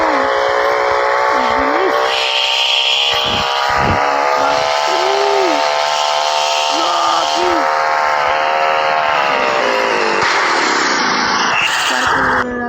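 A drag race motorbike engine in a video game holds a loud, buzzing tonal drone that rises and shifts in pitch throughout, with a person talking over it.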